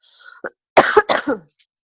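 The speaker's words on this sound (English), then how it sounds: "Sorry, I'm coughing." A short burst of harsh, close coughing, two or three rough coughs in quick succession after a faint breath.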